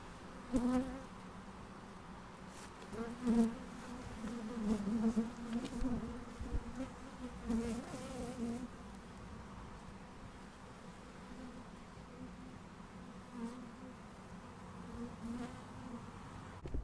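A swarm of honey bees gives off a dense, continuous buzzing hum around the collector, steady and fairly loud throughout, with individual bees droning past now and then.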